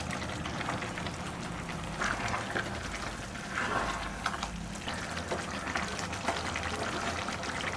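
Drained cooked rice tipped into a pot of vegetable biryani gives a soft, faint patter and gentle sizzle, with brief grainy rustles scattered over a quiet hiss, no one talking.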